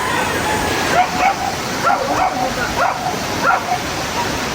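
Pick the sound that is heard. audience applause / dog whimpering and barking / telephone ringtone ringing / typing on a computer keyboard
dog whimpering and barking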